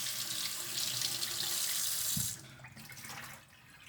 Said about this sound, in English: you can just clean here and make sure you give a good rinse. And then also wash the leaves too